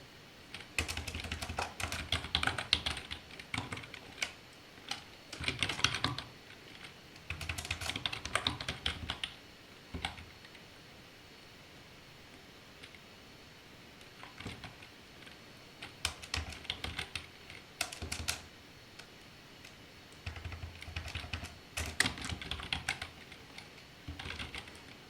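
Kotlin code goes into Android Studio on a computer keyboard in several bursts of rapid close key clicks, with pauses of near quiet between them.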